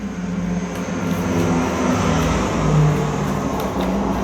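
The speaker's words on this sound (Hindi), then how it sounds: "ये प्लेन की आवाज थी।" A steady low roar of an airplane passing overhead, swelling slightly louder toward the end, with no voices.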